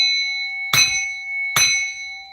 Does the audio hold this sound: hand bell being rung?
yes